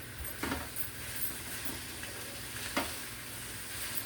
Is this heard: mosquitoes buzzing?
no